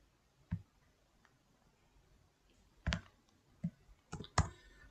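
A computer mouse clicks in a quiet room, a few isolated sharp taps spread over several seconds, with a quick cluster of clicks near the end.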